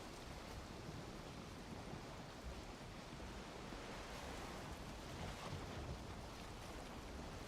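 Ocean waves wash steadily against a boat at sea in Valheim, a continuous broad rushing surge with wind, fairly quiet and with no voices.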